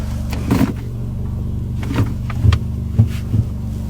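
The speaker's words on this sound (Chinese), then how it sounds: "就是怠速启动的时候，整个车内非常大的一个共振的一个声音呢" Inside the cabin of an idling Chery Tiggo 5X, a loud, low droning resonance hums steadily, broken by recurring dull thumps every half second or so.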